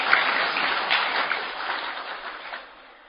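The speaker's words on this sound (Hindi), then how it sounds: "अब अपने लिए ताली बजाओ।" An audience at a spiritual gathering on silence and meditation claps steadily, a moderate, even patter of many hands that fades out toward the end.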